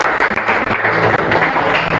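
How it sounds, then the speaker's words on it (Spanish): A church congregation applauds in a loud, dense burst of many hands, with a low musical hum underneath. "un aplauso"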